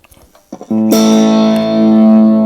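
A Fender Japan guitar amp with the volume turned fully up, giving a natural overdrive: a few soft plucks, then a loud sustained distorted chord ringing on steadily.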